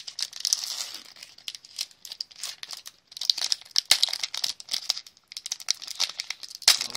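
A Pokemon XY Phantom Forces card blister pack is torn open with close, crisp plastic crinkling and tearing in quick irregular bursts and a few sharper snaps. No one speaks.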